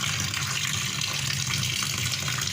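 Water pours steadily from a tap into a basin where a freshly caught fish is kept, a close, continuous rushing splash with no break in flow.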